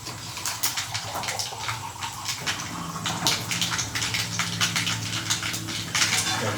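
Water runs steadily from a Kent water filter into a container, a continuous splashing gush with light clinks of dishes and utensils throughout.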